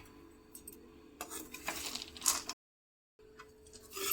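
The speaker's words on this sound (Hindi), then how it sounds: "तो हम डाल देते हैं नारियल को, और इसी के साथ में डाल देंगे हम खारक भी, और दोनों चीज़ों को अच्छे से मिक्स कर लेते हैं।" Grated coconut and dry dates stirred with a utensil in melted ghee in a pan give close, intermittent metallic scraping and clinking, which stops briefly and then resumes.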